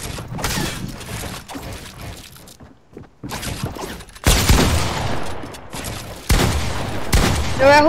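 Rapid bursts of video game gunfire crackle close and loud, with shattering and impact effects between volleys.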